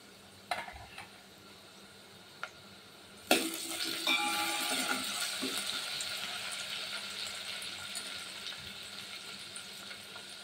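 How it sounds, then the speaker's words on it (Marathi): Chopped onion and a pinch of asafoetida hit a hot pan with a sudden loud burst of sizzling, which settles into a steady frying hiss, after a few quiet clicks and taps beforehand, with no voices. "बारीक चिरलेला कांदा घालून घ्या. यामध्ये घालते पाव चमचा हिंग."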